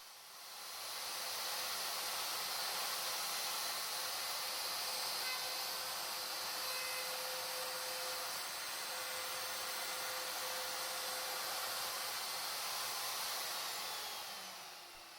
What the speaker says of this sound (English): just a 1 minute job to come back with a router and smooth everything up and get everything looking nice and tidy